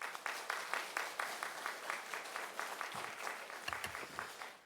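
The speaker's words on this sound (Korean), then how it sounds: "나오실 때 많은 박수로 환영하겠습니다" Applause rings out in a church as a Korean congregation welcomes a visiting pastor to the pulpit at a Sunday afternoon service, a fairly soft, steady patter of many hands clapping in quick rhythm for several seconds.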